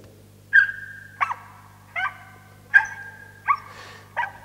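A single dog barking with high-pitched, clean yelps spaced at a slow, even pulse, six barks in a row, clear and close over a faint steady hum.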